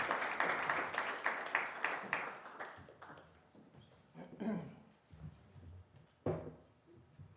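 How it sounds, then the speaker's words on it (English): A moderate burst of audience applause at a Sunday church service, with dense clapping that thins out after a few seconds, followed by scattered knocks and shuffling sounds. "a very warm round of applause"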